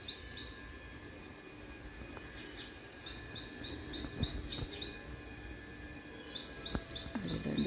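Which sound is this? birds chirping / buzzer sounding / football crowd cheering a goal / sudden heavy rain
birds chirping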